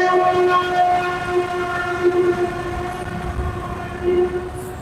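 A train runs toward Kamalapur in Dhaka, its horn sounding in long steady tones over the rumble of passing rail cars, loud and close throughout with no talk.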